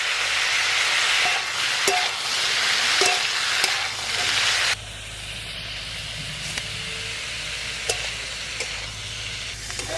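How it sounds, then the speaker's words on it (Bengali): Vegetables such as kohlrabi and beetroot, seasoned with turmeric and salt, frying in a pan over a dung-cake fired clay stove, with a steady sizzle and occasional scraping stirs; the hiss drops lower partway through. "সমস্ত সবজি ভালো করে ভাজা ভাজা হয়ে গেছে"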